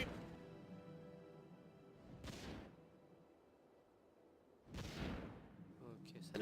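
A bomb drops in the Warcraft 3 strategy game, heard as two separate, fairly faint explosive bursts a couple of seconds apart over a low, quiet game backdrop, each a short broad crash that quickly fades.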